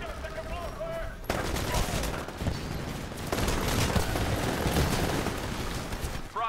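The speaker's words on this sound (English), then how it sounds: "BCast 94 shooting burst fire, getting a long range kill with this SMG." Rapid bursts of SMG fire in the shooter game Titanfall, loud and dense, repeating almost continuously with only brief breaks between volleys.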